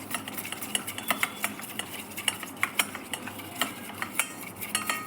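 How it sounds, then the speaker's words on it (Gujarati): A spoon stirs a thin gram flour and water batter in a bowl for a chutney, giving a steady run of light wet clinks and scrapes at an uneven rhythm, close and clear with no talking. "હવે તેની અંદર પાણી પાડી અને તેને સારી રીતના મિક્સ કરી લઈશું."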